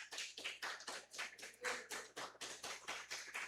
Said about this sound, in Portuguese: Você pode dizer glória a Deus e aplaudir o Senhor bem forte?